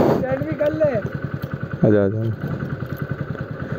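A Hero Splendor Plus motorcycle and a Honda Activa scooter idle and rev at the start of a drag race, their close engines pulsing steadily under loud talking.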